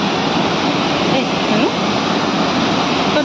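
Loud, steady roar of rushing river water churning below a new steel bridge over Rambi Khola in Mungpoo, a continuous close wash of noise with no break.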